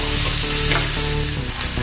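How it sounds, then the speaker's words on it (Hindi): Onion and carrot frying in oil, a dense, loud, close sizzle with a low hum underneath and faint stirring, continuous throughout. "अभी तो हमने 2-2 मिनट पकाया है प्याज को, गाजर को, जो बताने हैं हरे वाले, इसको तेल में अच्छे से इसको फ्राई किया है 2-2 मिनट।"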